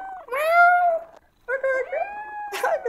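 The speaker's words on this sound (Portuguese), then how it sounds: "Olha o gato." A cat meows twice in the Undawn video game, with drawn-out, tonal mews separated by a short pause, close and clear, followed by a brief sharper burst.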